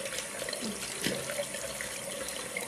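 Tap water runs steadily into a sink as hands are wetted, a continuous close splashing hiss with no speech.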